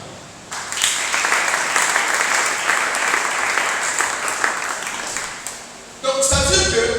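A church congregation breaks into loud, sustained applause during a sermon on deliverance, dense clapping filling the room for several seconds before a voice comes back in at the end.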